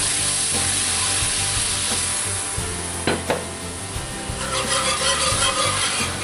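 Milk is poured into a dark bacon roux in a cast iron pan and whisked, producing a close, steady hiss and sizzle with scraping strokes and a few sharp clinks of the whisk.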